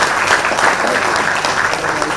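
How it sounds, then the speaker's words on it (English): A seated audience at a disability empowerment panel discussion gives a round of applause, a steady, dense wash of many hands clapping close by, holding at an even loudness for the whole stretch. "A better round of applause for, I don't call them persons with disability, I call them with special ability."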